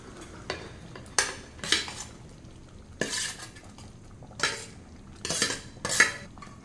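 Metal utensils clink and scrape against a pot in several sharp bursts as sautéed eggplant is stirred into boiling curry, with no talking.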